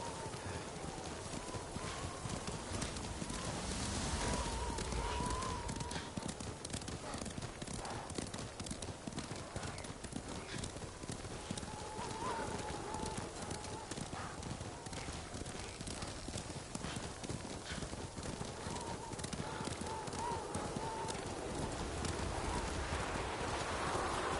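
Horse hooves clip-clop steadily as a rider travels in the video game Ghost of Tsushima, a continuous rhythmic trot under wind and ambient game sound.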